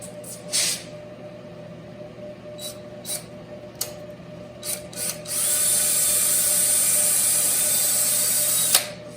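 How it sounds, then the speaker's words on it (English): A power drill whirs in a few short bursts, then runs steadily for several seconds at high speed, boring a pilot hole for a screw into wood before stopping. "Here's a drill."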